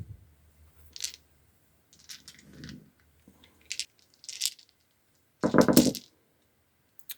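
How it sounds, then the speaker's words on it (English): Thirteen dice rolled in a tabletop wargame, several short rattling clatters scattered across a quiet room, ending in one louder, longer burst of dice tumbling together. "crunching 13 dice"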